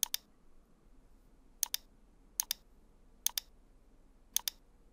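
A computer mouse button clicks five times at spaced intervals, each a sharp double click, close and crisp over a faint steady background hum with no talking.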